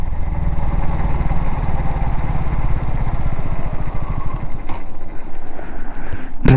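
A KTM Duke 200 BS6 motorcycle engine running nearly dry on fuel, a steady loud idle-like drone with pulsing low-end firing that falters near the end, close up with no talk.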